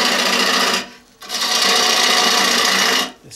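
A gouge cuts a wooden bowl on an electric lathe, making a loud, close, sustained rasping hiss that breaks off briefly near the start and stops again at the end.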